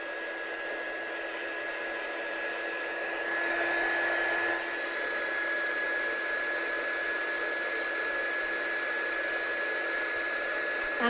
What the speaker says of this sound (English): Let's dry heat set this one then